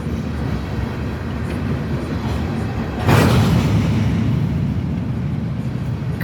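A train rumbles past in a steady low roar that swells suddenly louder partway through and stays heavy, with no talking.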